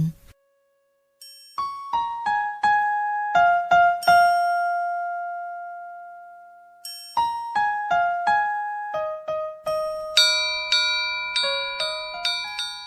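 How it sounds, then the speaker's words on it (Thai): A school bell signalling afternoon classes plays a melodic chime, ringing out note by note, pausing on a long sustained tone before a second descending run of clear, ringing notes. "เสียงระฆังบอกเวลาเข้าเรียนภาคบ่ายดังขึ้น"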